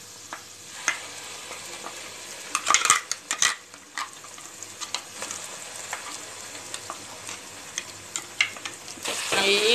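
Ground pepper-curry paste sautéing with golden fried onions in a pan, a steady low sizzle broken by scattered spoon scrapes and clacks against the metal, close and fairly quiet.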